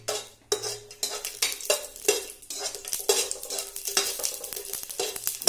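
Garlic frying in hot mustard oil while being stirred with a utensil, a steady sizzle broken by repeated scraping and clinking strokes against the pan, close and without talk.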